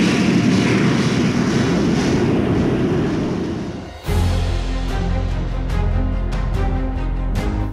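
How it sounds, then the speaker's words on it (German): A jet aircraft turbine engine runs loud and close, a broad roaring rush that dips briefly midway and then returns as a lower rumble with a steady whine, alone without talk. "Die Turbine auf dem Grund des Ansaugschachtes ist das Herz des Flugzeuges."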